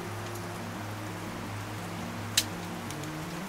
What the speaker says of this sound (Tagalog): Ito po, umuulan po dito.